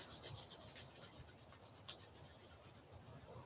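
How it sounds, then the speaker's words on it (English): Palms rubbing together during a Kundalini yoga practice, a soft continuous close-up swishing friction that stays low and steady throughout. "Rub the palms together"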